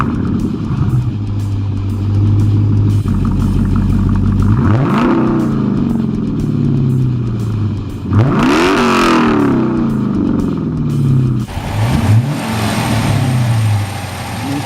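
Car engine fitted with a K&N air filter idling steadily and then revving hard three times, each rev rising sharply in pitch and falling back to idle, loud and close.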